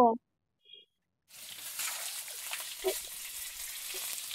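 Potatoes fry in oil left over from frying rohu fish. After a brief spoken sound and a short quiet pause, a soft, steady sizzle starts and keeps going close by.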